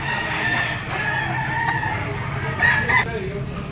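A grey gamecock rooster from Liliw, Laguna, crows loudly and nearby, with the crow peaking late in the clip. Softer clucking and faint background voices run throughout.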